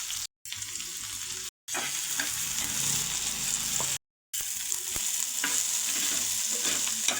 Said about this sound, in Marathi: हे सगळं ना तव्यावरती छान नरम होईपर्यंत भाजून घ्यायचं.